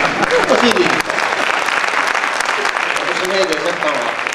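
Audience clapping at a Hindi kavi sammelan poetry recital, a loud burst of applause from the crowd with a voice speaking over it.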